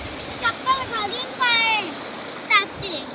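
A river flows steadily in the background, a soft wash of moving water under frequent voices of adults and someone talking nearby.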